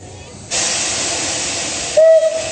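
Steam locomotive 486 007 on a turntable, a loud, steady hiss of escaping steam that starts abruptly, then a short whistle tone joins near the end.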